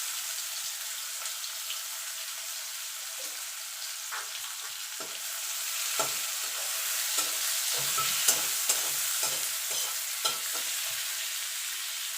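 Two medium sliced onions dropped into hot oil, a steady bright sizzle with repeated stirring scrapes and clinks growing busier toward the end.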